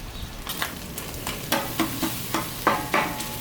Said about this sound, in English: Chopping the cheese, baby.